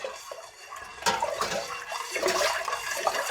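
Sugar water being stirred in a pot while making lemon wine, a close, continuous liquid swishing and sloshing with no talking.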